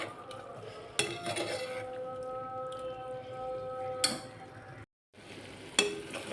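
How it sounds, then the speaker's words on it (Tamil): Chicken gizzards and liver fry on a stovetop, a steady sizzle with occasional metal clanks of a ladle or spoon against the pan, close and moderately loud. "குக்கர் மூடி எடுத்துட்டு கொஞ்சம் நேரம் அடுப்பில் வச்சு நல்லா சுருளை விடுங்க"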